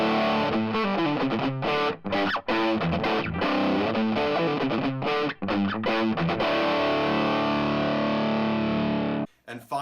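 Overdriven electric guitar through a 1953 Gibson GA-40 amp fed by a Lazy J Cruiser pedal; a dense, loud chord riff with a few brief breaks, then a long sustained chord cut off near the end.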